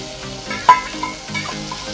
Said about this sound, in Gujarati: હવે આ ચરણી ઝીકી દીધી તેલમાં